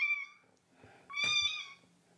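Orphan kittens meowing loudly, two insistent high cries close to the mic, separated by a short pause.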